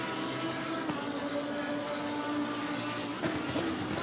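A steady, loud racing-car engine in the racing game Assetto Corsa Competizione at Zandvoort drones continuously with a high, constant pitch and a slight rise near the end, no voices.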